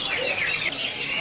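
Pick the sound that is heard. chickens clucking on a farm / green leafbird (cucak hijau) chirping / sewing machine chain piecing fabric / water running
green leafbird (cucak hijau) chirping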